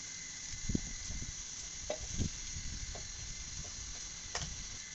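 Whole cumin seeds and two dried red chillies crackle and sizzle in hot oil for mutton handi, a steady bright frying hiss with scattered soft pops and light stirring taps close by.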